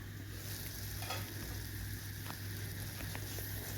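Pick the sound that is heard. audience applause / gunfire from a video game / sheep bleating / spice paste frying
spice paste frying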